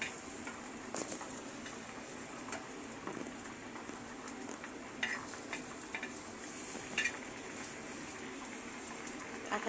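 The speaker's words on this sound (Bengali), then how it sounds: "এখন আমি কাঁঠালের বিচি ভেজে নিচ্ছি।" Boiled jackfruit seeds fry in a pan with a fairly soft, steady sizzle and occasional stirring taps, somewhat faint, with a bird faintly calling in the background.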